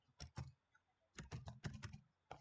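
Someone types code on a computer keyboard. Quiet, close key clicks come in short bursts separated by brief pauses.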